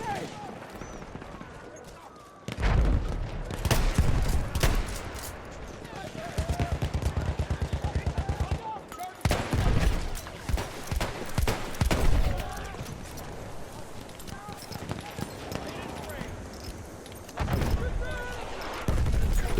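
Gunfire and a grenade blast in the Battlefield 1 video game, loud bursts and bangs recurring through the stretch with heavy low-end booms, mixed under someone talking.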